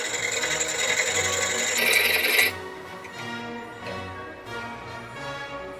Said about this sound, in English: To cut off the button, I'm using a jeweler's saw,